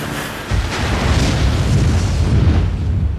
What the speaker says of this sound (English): somehow single-handedly shoots down a helicopter on his own